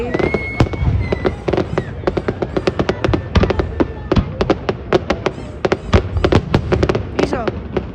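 New Year's fireworks over New Orleans crackle and pop in rapid irregular bursts, loud and close, with deeper thumps underneath and a few voices reacting.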